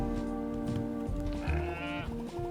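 Sheep in the video game Cairn: Mathair's Curse bleat in a few short, wavering, pitched calls, fairly close and clear, with game music or ambience underneath.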